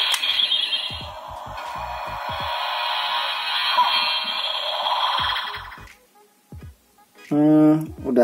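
A bootleg Ultraman Tiga Spark Lens toy changer gives off a long, loud electronic sound effect with buzzy synthetic tones, followed by a few short beeping chimes, recorded close up with no talk over it.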